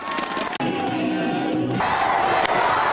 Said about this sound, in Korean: 팬들로 가득 찬 관중석에서 정규 시즌 못지않은 열광적인 응원이 펼쳐집니다